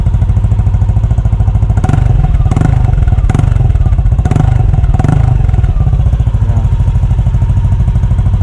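A Yamaha Aerox scooter fitted with a titanium JVT exhaust idles with a loud bassy burble, then gets blipped in a string of short, quick revs before settling back to idle, close up.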